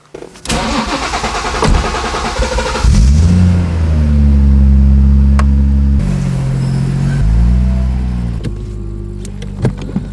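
A B58-swapped BMW E46 Touring wagon's engine cranks, fires and revs hard close by, its loud roar rising and falling in pitch before settling, with no talking.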